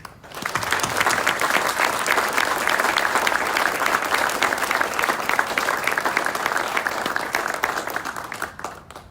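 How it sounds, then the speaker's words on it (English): A round of applause at a memorial obstacle dedication for Lieutenant Kile G. West, honoring his Gold Star family: sustained crowd clapping that swells quickly, holds steady and fades near the end. "So please join me in a round of applause for our Gold Star West family."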